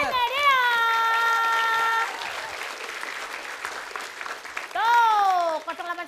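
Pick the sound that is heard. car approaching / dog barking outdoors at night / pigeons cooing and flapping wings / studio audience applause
studio audience applause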